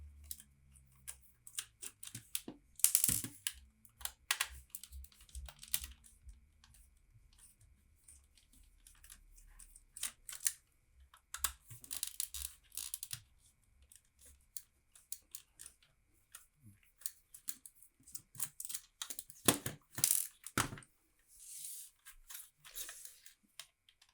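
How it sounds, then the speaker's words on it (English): Screws being taken out of a broken household item during dismantling, heard as a run of sharp clicks, scrapes and ratcheting bursts from close by, scattered irregularly over a quiet background with no talking. "By just removing all of the screws."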